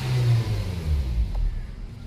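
A Nissan Almera engine with a fuel pump problem turns over and catches in a short, close burst of cranking and low rumbling revs that then settle.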